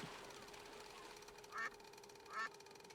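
Two short nasal duck quacks about a second apart in the video game Secret Files 2, heard clearly over a faint, steady ambient background.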